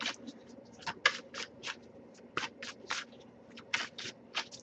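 Tarot cards are shuffled in quick, crisp bursts of riffling and slapping, close and fairly quiet, with short pauses between strokes.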